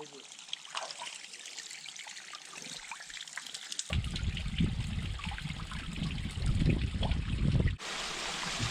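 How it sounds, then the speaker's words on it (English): A small creek flows into a river in remote Canadian wilderness, a steady watery trickle and rush that grows fuller and louder midway, heard close with faint voices beneath. "Beautiful little creek coming in here."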